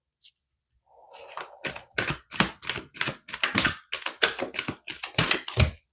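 A deck of oracle cards is shuffled by hand, a fast run of crisp riffling snaps after a brief soft rub, about a dozen quick close clicks in a steady rhythm.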